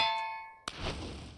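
A single bell toll rings out in Minecraft with the BunSouls modpack while a heavy attack charges, a bright metallic clang with long ringing overtones, then a second sharp strike followed by a softer, noisy decay.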